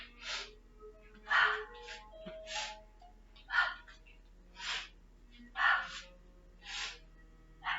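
Steady rhythmic breaths during a yoga exercise, audible inhales and exhales repeating about once a second, close and fairly quiet, with no talking.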